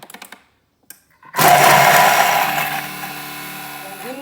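A Thermomix chopping onion pieces at speed 7 starts abruptly after a few clicks and roars loudly and steadily for about three seconds, then eases to a lower whir as it winds down.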